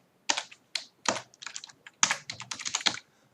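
Rapid bursts of typing on a computer keyboard while entering Python code, clustered keystrokes in short uneven runs with brief pauses, close and clear with no talking.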